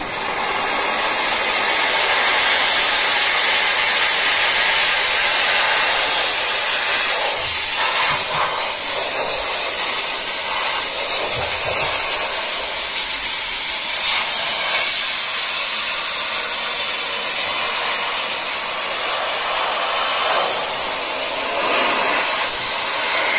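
A steam cleaner used for bedbug treatment gives off a loud, continuous hiss of hot steam that runs steadily and close by throughout, with no talking.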